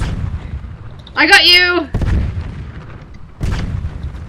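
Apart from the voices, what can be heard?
tank cannon shots in the video game Tanki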